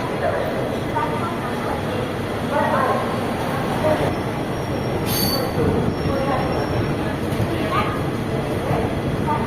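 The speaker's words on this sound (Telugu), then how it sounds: "ఈ Barauni special fair express depart అయ్యింది రాజమండ్రి రైల్వే స్టేషన్ నుంచి" The Barauni special fare express pulls out of Rajahmundry railway station from platform three, its wheels squealing and rumbling loudly and steadily throughout.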